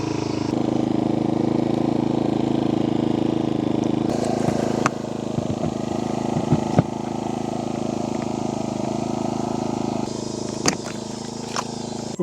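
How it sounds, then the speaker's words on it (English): A Proyama PG4000i inverter generator runs at a campsite, a steady, even engine drone with a few faint clicks and knocks over it. "It's probably the quietest generator I've ever heard, personally."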